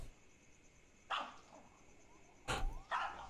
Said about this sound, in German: Jake bellt.